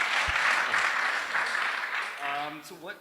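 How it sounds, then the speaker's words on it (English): Audience at a Startup Grind event in Montreal breaking into a dense burst of clapping that fades, with a voice speaking briefly near the end. "Give yourselves a round of applause."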